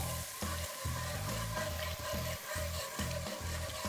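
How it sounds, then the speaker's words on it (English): Gravy for a Hamburg steak burger sizzles and bubbles in a pan, a constant close frying hiss with a rhythmic scraping pulse of stirring throughout, no talking. "I'm gonna cook this. I'm gonna make a nice gravy here."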